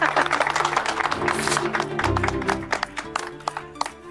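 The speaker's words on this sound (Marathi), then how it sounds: "प्रमुख पाहुणे आलेत, करूया टाळ्यांचा गडगडा." Applause for the chief guests at a Holi celebration: a crowd clapping continuously, fairly close and moderately loud, with scattered louder claps near the end over festive background noise.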